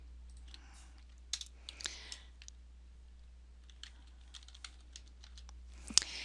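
Quiet, close typing on a computer keyboard while entering an SQL command in Access, with irregular light key clicks in small clusters and a slightly sharper tap near the end.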